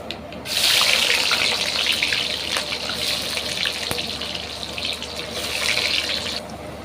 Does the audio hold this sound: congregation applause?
no